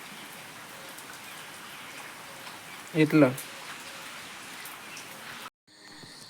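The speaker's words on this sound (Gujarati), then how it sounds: "એક સાઈડ વરસાદ ચાલુ છે" Steady rain falling outdoors, a close continuous patter of drops on surfaces, with a brief burst of talking partway through before the sound cuts off abruptly near the end.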